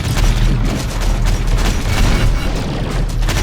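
Dense artillery fire in the Terminator: Dark Fate – Defiance strategy game, a continuous barrage of heavy booms and rumbling blasts, loud and close with no talk over it.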